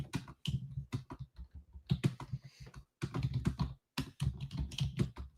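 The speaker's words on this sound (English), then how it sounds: "So I'm typing it in our group right now." Typing on a computer keyboard at a day-trading desk, heard as close, rapid bursts of keystrokes separated by short pauses.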